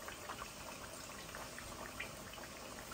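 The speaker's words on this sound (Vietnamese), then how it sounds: "Đang nấu cà ri nè." Curry simmering in a pot on the stove, a steady bubbling, sizzling wash of sound, close and even with no talking.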